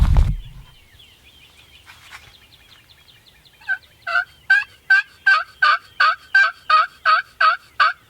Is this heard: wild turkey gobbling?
yes